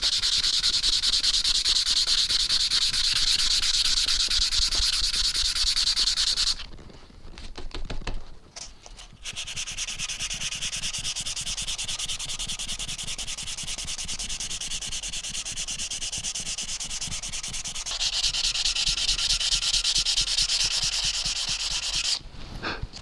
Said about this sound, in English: So I'm going to sand out basically most of this anyway.